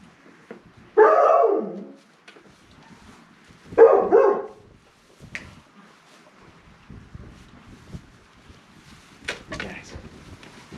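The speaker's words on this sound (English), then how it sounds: "Some puppies not happy to be left out." Puppies left out after a snow storm bark in two loud, separate outbursts near the start, followed by quieter scattered sounds and brief talking.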